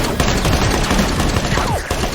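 Dense, loud gunfire in the Devil May Cry anime, rapid shots overlapping into a continuous barrage with music and effects beneath, and a voice briefly audible in the mix.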